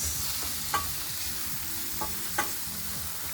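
Onion being stirred in sizzling olive oil in a pan, a steady fry hiss with a few soft scraping clicks of the spoon, no talking.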